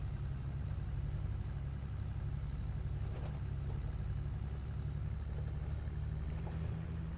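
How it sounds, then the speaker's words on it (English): A small tractor idling in Farming Simulator 22, giving a steady low engine rumble that holds evenly throughout, with no talking. "Nice little tractor. I like it."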